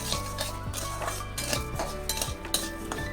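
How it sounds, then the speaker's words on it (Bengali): Gobindobhog rice stirred and fried in ghee in a kadai with a metal spatula, giving repeated scraping clinks against the pan over a low, steady sizzle, close and clear with no talking. "খুন্তি দিয়ে নাড়াচাড়া করে চালগুলোকে ঘিয়ের মধ্যে ভেজে নিলাম"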